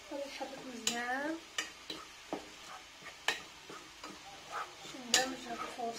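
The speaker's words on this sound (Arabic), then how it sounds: "غادي نحرك مزيان" A spoon stirs vegetable soup in a pot on the stove, giving a series of close, irregular scrapes and clinks over a faint simmer, while someone speaks briefly now and then.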